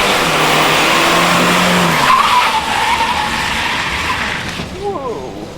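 A car braking hard at a Saab Aero driving academy, tires skidding and squealing in a loud sustained screech that fades out, with a voice speaking over it.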